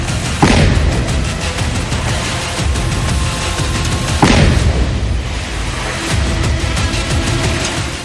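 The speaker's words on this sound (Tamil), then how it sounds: "வீடுகள் வெடிவைத்து தகர்க்கப்பட்டன." Two heavy explosions boom out as houses are blown up with explosives in Kashmir, the first just after the start and the second midway, each followed by a sustained loud rumble.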